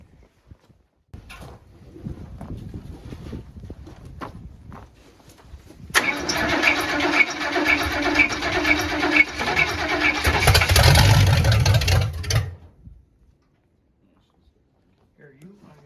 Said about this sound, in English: we're gonna get the Scout Car in here.